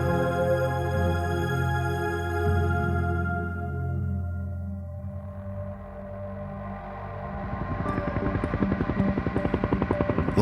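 Westpac rescue helicopter in flight toward the Hunter Valley, a rapid rotor thump and turbine whine rising in the second half after fading music, loud and close.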